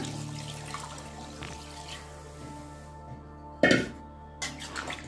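Water splashing into a pan of chicken curry, a short burst of pouring over faint background hiss, followed by a couple of softer splashes.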